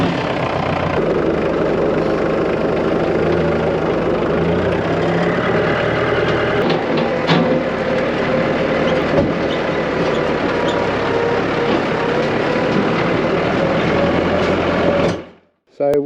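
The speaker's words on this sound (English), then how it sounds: "let's go take this down the bottom and start the pump" A homestead water pump engine runs steadily in a loud, continuous drone, close by and unbroken until it cuts briefly near the end.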